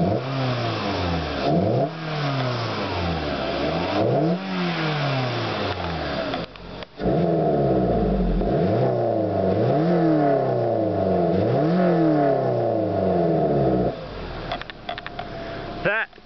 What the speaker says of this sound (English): let's go start the car again and I will rev the engine for you guys to see